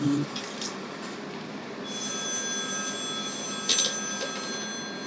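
An old-time telephone rings in a suspense radio drama, a bright electric bell tone that starts partway through and holds steadily over a dim, hissy background.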